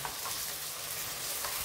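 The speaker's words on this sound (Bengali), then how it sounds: "লাল লাল করে ভেজে নেব।" Cauliflower and potato frying in a pan until reddish, a steady dense sizzle with a few soft stirring scrapes, close and continuous with no talking.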